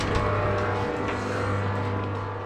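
A turbocharged Mini Cooper engine runs inside a garage, giving a loud, steady, continuous mechanical drone with a low hum throughout and no distinct rev changes.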